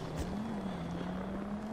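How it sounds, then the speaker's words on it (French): A helicopter in GTA V, a steady droning rotor and engine hum that holds unchanged throughout, moderately loud with no talk. "David, tu vas descendre de l'avion, de l'hélico"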